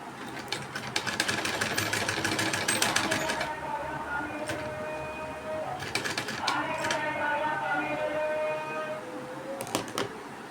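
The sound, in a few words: sewing machine stitching blouse neckline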